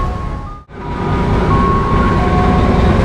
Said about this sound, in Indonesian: Kereta api lokal Merak melanjutkan perjalanannya menuju ke stasiun Merak